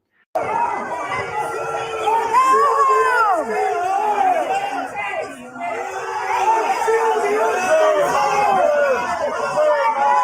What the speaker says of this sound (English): A top Republican congresswoman basically booed off the stage.